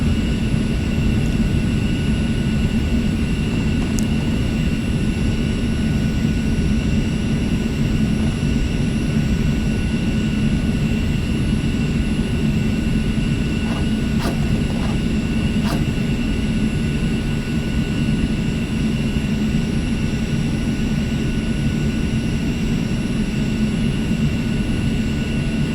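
Steady, loud roar of a commercial jet aircraft taking off nearby, a continuous low engine rumble with a whining tone held throughout and no talk.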